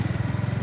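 A motorcycle engine running on a muddy clay road chugs in a fast, steady low pulse, loud and close over a brief moment.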